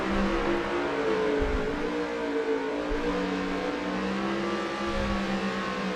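Race car engines in NASCAR Heat 5 at the Roval road course, with several cars running side by side and roaring steadily at high revs, a dense, continuous drone with no voices.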